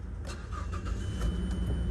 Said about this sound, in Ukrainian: автомобіль запускається гарно, працює рівно